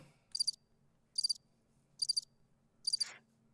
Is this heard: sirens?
no